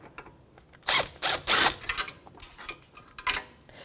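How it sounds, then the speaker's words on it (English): Loosening the brake caliper bracket bolts on the front knuckle of a 1992-1996 Toyota Camry with a 17mm socket wrench: several loud, close bursts of metallic ratcheting and clicking in uneven spurts, with no one speaking. "I'm going to take a 17mm socket, and I'm going to undo the mounting bolt brackets to the knuckle"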